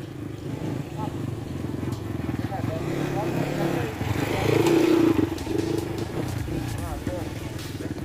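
A motorbike engine runs nearby with a steady, low drone for about eight seconds, swelling slightly midway, while people talk over it.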